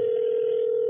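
A steady telephone tone from a horror film hums on one unchanging pitch, loud and continuous with no breaks for under a second.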